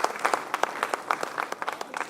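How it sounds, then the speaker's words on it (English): An audience applauds at an annual church engagement gathering: brisk, uneven clapping from a moderately sized crowd, steady and fairly close, with no voices over it. "And I think you should all applaud"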